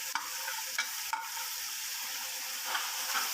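Minced keema frying with green chilies and tomatoes for a khara masala keema, giving a steady close sizzle and hiss broken by a few sharp stirring clicks of a spoon against the pan.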